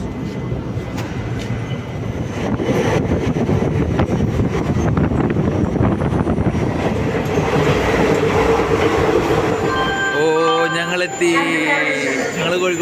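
Passenger train running on rails, a loud continuous rumble with clattering and wind buffeting heard from inside the coach, easing toward the end as squealing brake-like tones appear.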